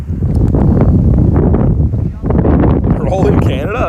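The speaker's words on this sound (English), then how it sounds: "it's a pretty windy day" Wind on a windy day outdoors, heavy rumbling gusts buffeting the microphone, loud and close, with a voice speaking through it.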